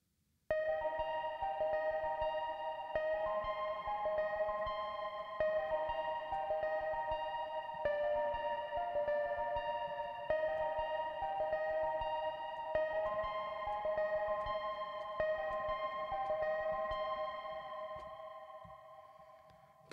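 Bouncing funk arpeggiator preset from a plugin on an iPad, repeating synth notes in a steady bouncing pattern with a chorus-like shimmer, sustained throughout and fading at the end, no voices.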